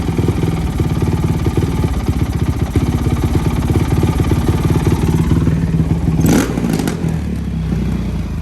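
A Honda Shadow 750 street motorcycle idles close by with a steady, throbbing low rumble and a brief blip of revs near the end.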